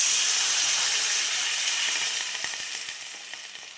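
Water added to a pan of sautéed food in an Indian kitchen comes to a boil, a steady loud hiss and sizzle that slowly fades, with a few faint pops and clicks near the end.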